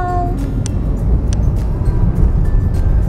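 Car driving through city traffic, a continuous low engine and road rumble with a few brief high squeaks and faint tonal hints of other vehicles around, heard alone without talk.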